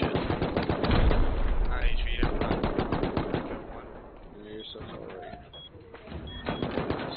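Turret gunfire in a multiplayer game, bursts of rapid automatic shots rattling at moderate loudness, easing off midway before more shots return, with players talking over it.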